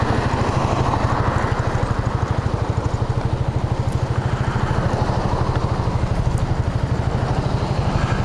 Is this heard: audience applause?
no